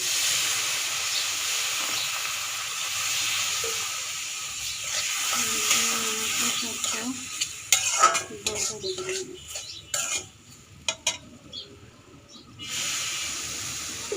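Semolina and milk are stirred into a stiff dough over low heat, giving a soft hiss and sizzle at first, then scraping and knocking of a utensil against the pan that turns irregular and sparse.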